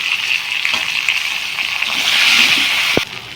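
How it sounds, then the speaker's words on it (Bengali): Cut pointed gourd pieces hit hot oil that was just used to fry shrimp, making a steady bright sizzle with a soft thud near the end. "ওই তেলে দিয়ে দেবো কেটে রাখা পটলগুলো"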